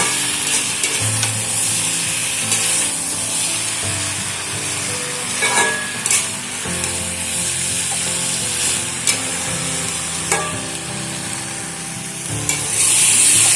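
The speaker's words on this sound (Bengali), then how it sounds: "সমস্ত মশলা দিয়ে ভালো করে সবজির সঙ্গে আবারও একটু ভালো করে কষিয়ে নেব।" Vegetables for a Bengali labra curry sautéed with turmeric, ginger and spices, a loud continuous pan sizzle with a spoon scraping and stirring in repeated strokes and occasional clatter.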